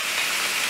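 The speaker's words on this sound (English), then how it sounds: "what we're looking for is just to saute the onions and garlic a little bit" Chopped onion and garlic sauté in a pan with a steady, close hiss and fine crackle, constant through the short moment with no talking.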